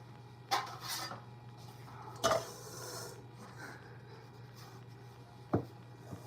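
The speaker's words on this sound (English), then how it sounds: "I'm gonna get my other pan." A metal baking pan being handled for bread making in a home kitchen, giving a few sharp clanks and scrapes spread over several seconds against a steady low hum, with no talking.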